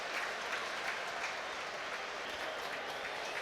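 Dense, steady roar of a football stadium crowd at a Hull City versus Coventry City Championship match, a far, continuous wash of cheering and clapping with no distinct voices.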